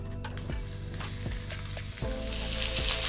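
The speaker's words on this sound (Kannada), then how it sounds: "ಈರುಳ್ಳಿಯನ್ನು ಹಾಕಿದ ಮೇಲೆ ಮೀಡಿಯಮ್ ಫ್ಲೇಮಲ್ಲೇ ಫ್ರೈ ಮಾಡ್ಕೋಬೇಕು." Onions frying in oil in a pan over a medium flame, part of making a creamy malai chicken: a steady close sizzle with occasional stirring knocks, growing louder and hissier toward the end, with no talking.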